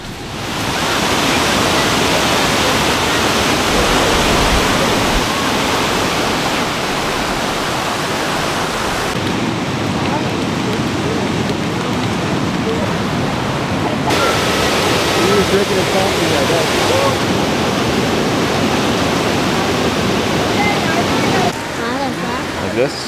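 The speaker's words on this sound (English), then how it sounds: "This is a waterfall." Waterfall seen on a family road trip, a steady, loud broadband roar of falling water filling the whole stretch without a break, with a voice and an adult talking faintly underneath at moments.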